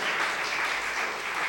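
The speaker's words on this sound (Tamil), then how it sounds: "நீங்களெல்லாம் கைத்தட்டி அவருக்கு நன்றியை தெரிவித்து" An audience at a speech applauds, and dense, even clapping fills the whole moment. The sound comes at steady loudness without any talking over it.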